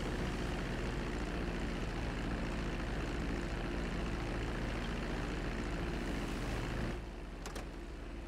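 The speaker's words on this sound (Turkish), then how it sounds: "Güzelce inişimizi de yaptık." A GTA 5 airplane just after landing: a steady, loud engine drone and rumble holds for about seven seconds, then drops to a quieter idle with a couple of brief higher clicks near the end.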